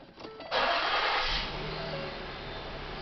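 A 2013 Ford Explorer engine cranks briefly, catches with a loud burst, then settles into a steady, close idle.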